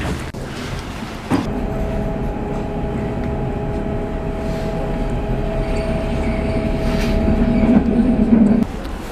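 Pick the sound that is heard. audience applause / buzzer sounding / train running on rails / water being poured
train running on rails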